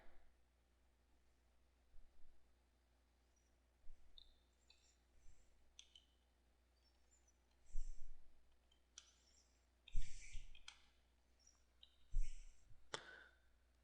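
Computer mouse clicking while watermark text is entered in an image editor, sparse faint clicks and taps spaced a second or two apart over quiet room hiss.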